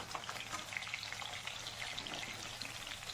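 Onion goes into a pan of frying chicken for a Bodo-style chicken with bamboo shoot dish, giving a soft, continuous sizzle with light crackles, faint and steady, no talking.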